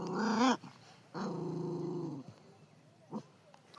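A hot-tempered puppy growls angrily in two long, rumbling bursts close by, separated by a short pause, followed by a brief snarl and quieter rustling.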